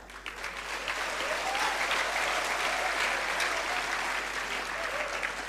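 Sustained applause from a large crowd at an Indonesian government event on electronic land certificates, steady and dense throughout without a break.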